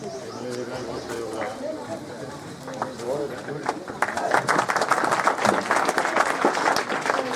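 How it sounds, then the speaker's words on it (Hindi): A crowd at a police outpost inauguration begins clapping partway through, the scattered hand claps building into loud, dense applause over the second half, following a stretch of someone speaking and background chatter. "एक बार तालियां शादाब भाई के लिए।"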